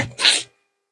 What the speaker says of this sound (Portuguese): Vou espirrar aqui, fiz uma pausa para espirrar.